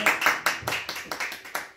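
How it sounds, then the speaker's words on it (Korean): A church congregation at a Sunday service in New York claps in steady rhythmic unison, about eight sharp, close claps over a couple of seconds. "모든 영광 하나님께 박수로 드리겠습니다"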